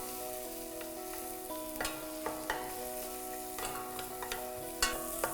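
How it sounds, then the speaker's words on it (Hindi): Onions sizzle and fry lightly in a hot pan for a vegetable soup, with a few scattered clinks and scrapes of stirring over the steady crackle; no talking. "यहाँ ज़्यादा नहीं भूनना, तड़का नहीं लगाना, बस प्याज का कच्चापन मारना है"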